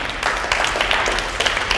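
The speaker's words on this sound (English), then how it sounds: "A round of applause for our inveterate helper, that's Meredith Wanderman." An audience applauds for a helper named Meredith Wanderman after a drama performance, a dense steady patter of many hands clapping throughout, fairly close and with no talk over it.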